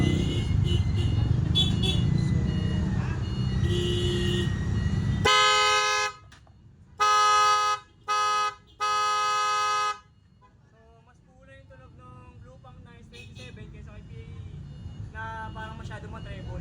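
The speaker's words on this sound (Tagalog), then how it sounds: "So yung dalawang produkto na yan, dalawang busina po na ito, available po kay 69 Moto." Blaupunkt S27 and PIAA aftermarket car horns honking: a noisy stretch with talk, then several loud sustained horn blasts in short separate bursts, one after another, followed by quieter tones and speech.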